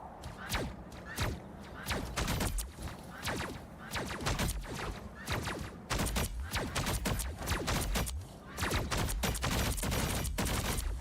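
Rapid projectile fire from a hero in Marvel Rivals: dense volleys of punchy shots and thumps in quick succession, near and loud, with brief pauses between bursts.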